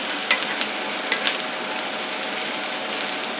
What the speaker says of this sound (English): Toss it so it gets coated with all that delicious butter and onions.